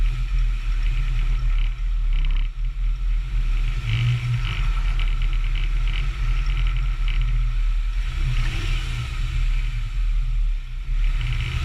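A 4x4 without a diff lock climbs a rock step on a trail at Strata Florida in Wales, its engine a steady, close low rumble that surges and strains throughout with no talk.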